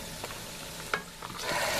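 Pork cracklins sizzle and crackle in hot oil in a pot close by, with a few stirring scrapes and pops, and the frying swells toward the end.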